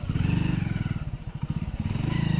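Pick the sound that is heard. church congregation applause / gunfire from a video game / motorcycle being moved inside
motorcycle being moved inside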